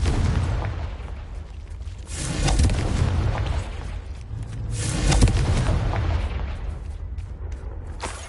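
Confringo fire-blast spell in Hogwarts Legacy, two rolling booming bursts a few seconds apart, each swelling into a loud rumbling roar and fading into a dense, noisy tail.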